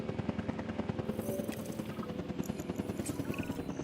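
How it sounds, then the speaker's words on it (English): Helicopters in the video game Jurassic World Evolution 2, a steady rapid rotor chop with a dense rhythmic thudding held throughout, fairly close and even in level. "Yeah, a lot of helicopters."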